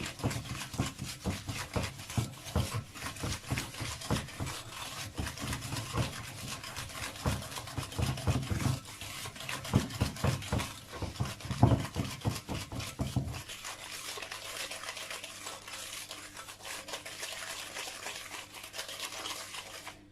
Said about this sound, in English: I'm just going to give this a nice whisk for a minute or so.